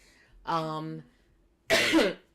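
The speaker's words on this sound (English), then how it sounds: "Goodness, I can't stop coughing." Two coughs close to the microphone: a throaty, voiced one followed moments later by a harsher, breathy burst, with quiet pauses around them.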